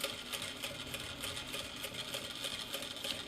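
Vevor M2 industrial sewing machine stitching fabric, a steady rapid mechanical chatter of needle strokes running continuously at an even pace, close and fairly loud.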